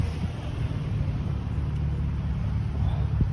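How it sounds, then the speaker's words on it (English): Steady traffic rumble from cars coming and going around a plaza parking lot, a continuous low drone of nearby engines with no distinct single pass-by standing out. "all those cars coming and going"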